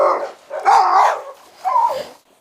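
Kangal and Rottweiler dogs in a garden give three loud, close bursts of barking and growling, separated by short pauses.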